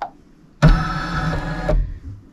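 A sewing machine stitches satin embroidery on a crazy quilt, starting abruptly and running in one steady, loud, close mechanical burst for about a second before stopping.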